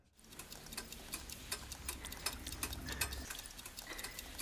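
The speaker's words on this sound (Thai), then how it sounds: "เสียงนาฬิกา มันดังอยู่ตลอดเวลา" Steady mechanical clock ticking, evenly spaced sharp ticks over a faint low background hum, fairly quiet and close.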